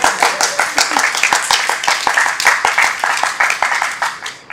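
Dense, brisk clapping from an audience at a talk on systemic corruption and politics, sharp overlapping hand claps at close range that keep a steady pace and then fade out toward the end.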